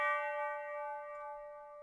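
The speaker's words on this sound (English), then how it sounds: "I have a church bell." A single struck church bell one-shot sample rings out, one clear sustained tone slowly fading away with nothing else around it.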